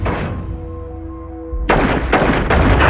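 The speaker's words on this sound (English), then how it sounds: "The suspect starts shooting at us and shooting at the door." Gunshots ring out at a barricaded door during a hostage standoff, several loud sharp reports fired one after another, following a sustained tonal hum and rumble.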